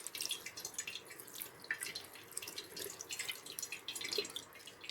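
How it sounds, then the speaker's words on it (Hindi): Chhena, fresh paneer curds, is rinsed by hand in cold water in a kitchen, giving soft, steady splashing and dripping with small sloshes throughout, close and fairly quiet. "उसको हम इस ठंडे पानी से धीमे धीमे करके इस तरीके से पूरा ऊपर नीचे करके पूरा धो लेंगे"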